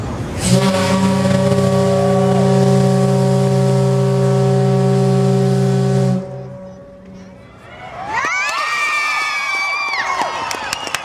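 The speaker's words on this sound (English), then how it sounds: "And it's the Titanic whistle." A loud, sustained blast from the Titanic's steam whistle, sounded at Union Depot, with rich harmonic tones lasting several seconds, followed after a brief pause by rising, wavering whistle tones.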